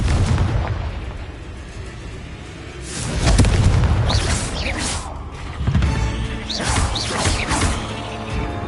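A Confringo spell explodes in a Harry Potter video game, heavy rumbling booms swelling twice with crackling debris and mechanical creaks, loud and close.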